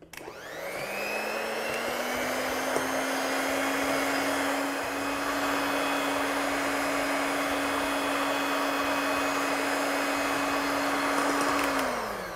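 An electric mixer whirs continuously at an even, moderately loud pitch, beating a chocolate mousse mixture in a bowl, running without pause for nearly the whole stretch before spinning down at the end.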